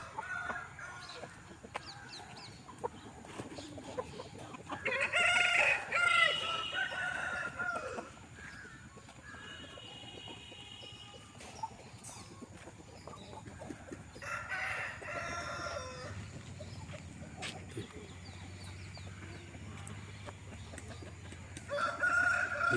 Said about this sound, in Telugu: ఇక్కడ కోడిపుంజలు అయితే నెంబర్ వన్ కోడిపుంజులు ఉన్నాయండి